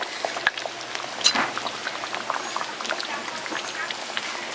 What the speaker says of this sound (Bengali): এখন কিছুক্ষণ চিংড়ি মাছ ফুটিয়ে নিব